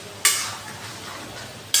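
Onions frying with mutton in a pan, a soft continuous sizzle broken by two sharp stirring scrapes, one early and one at the end, close by and with no talk.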